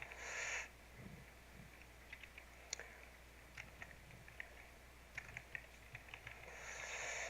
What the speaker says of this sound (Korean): 일단은 한번 처리하는 걸 제가 타이핑을 한번 쳐볼게요